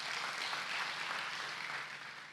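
A church congregation claps in unison, a loud continuous wash of applause that eases off slightly toward the end.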